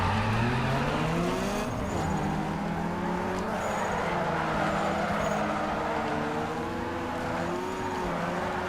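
A tuned car with a newly fitted turbo races in Need for Speed Underground 2, its engine note climbing and dropping through gear shifts in a loud, continuous drone, with a faint turbo whistle on top.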